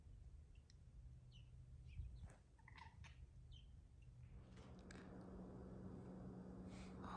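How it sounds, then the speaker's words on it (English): House finches chirp faintly in short, scattered notes, sounding distant over a low steady background hum with no talking. "Do you like the house finches?"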